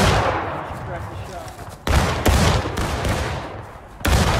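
Gunfire in War of Rights, the Civil War-era multiplayer game, with loud muzzle-loading rifle shots cracking out over a steady rumble of distant battlefield fire and scattered voices.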